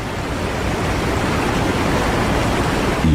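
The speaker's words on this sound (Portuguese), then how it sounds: "a água" Steady, dense rush of ocean waves and surf, continuous and fairly loud throughout with no voices, used as a water sound effect.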